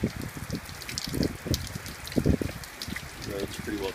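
Heavy rain splashes and water runs over a flooded road in uneven, gushing bursts, heard close and fairly loud, while someone talks over it.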